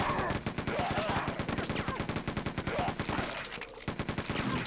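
Rapid automatic gunfire from the Quake II RTX shooter game rattles in a dense, steady stream of sharp bursts, loud and close, with game effects layered over it and a faint voice under the shots.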